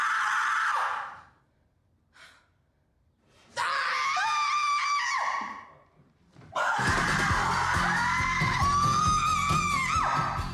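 Two women scream in a movie trailer, long loud shrieks in bursts separated by short gaps, the last burst joined by a low rumbling score underneath.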